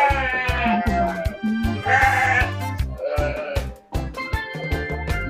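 Sheep at a sheep farm bleat repeatedly and loudly close by, several overlapping wavering cries one after another with farmyard clatter between them.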